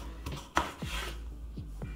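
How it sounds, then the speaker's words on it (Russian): A knife cuts small potatoes into large chunks, roughly quarters, on a board, giving several soft scraping slices and a sharper knock, close and quiet with no talking. "Картофель нарезаем крупно."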